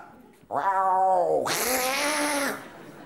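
During a comedy stage show, a comedian imitates a cat with a loud, drawn-out two-part yowl lasting about two seconds. It begins as a wavering meow and then turns into a harsher, brighter caterwaul.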